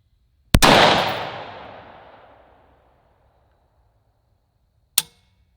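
A single sharp rifle shot cracks and rolls away in a long fading echo, then a second shot snaps about four seconds later, fired at targets outdoors.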